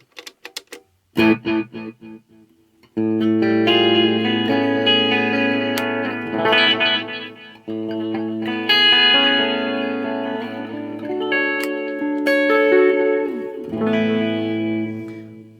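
Electric guitar chords ring out through a Visual Sound Dual Tap Delay, repeats bouncing in a triplet rhythm and overlapping into a dense, echoing wash; no voices.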